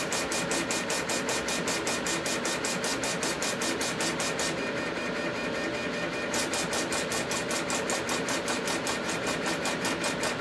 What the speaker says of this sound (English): That's why you hear the solenoid turning on and off.